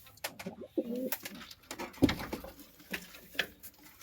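Andhra pigeons coo softly in a busy, close setting, with scattered flutters and small knocks around them; no talking.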